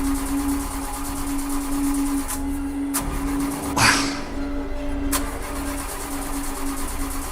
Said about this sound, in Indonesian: Hingga ku coba nyalakan mobil lagi.